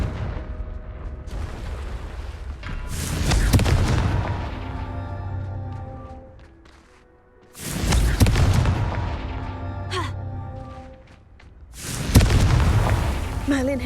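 Confringo fire-blast spells going off in Hogwarts Legacy gameplay: three loud booming bursts, spaced several seconds apart, over ongoing game effects and music.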